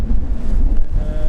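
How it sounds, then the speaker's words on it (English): Strong wind buffeting the microphone on a mountain trail in the Mazatzal Wilderness of Arizona during a backpacking trip, a loud low continuous rumble with gusty swells and no voices. "A really windy day, but it's a nice cool breeze."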